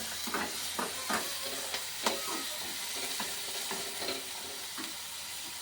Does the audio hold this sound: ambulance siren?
no